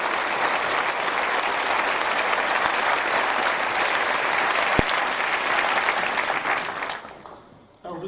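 A hall audience gives sustained, dense applause after a mayor's New Year address, steady and loud for several seconds before fading out near the end.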